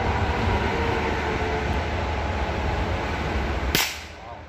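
A Rohm RG20 revolver fired in double action gives a single sharp crack near the end. The crack rises briefly over a steady, loud outdoor rumble.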